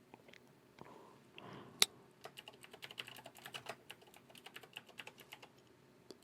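Quick, irregular clicks and taps of fingers typing on a computer keyboard, fairly close and quiet, with short pauses between bursts of keystrokes.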